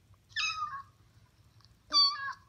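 A cat meows twice, close and clear, two drawn-out cries about a second and a half apart over a faint low background hum.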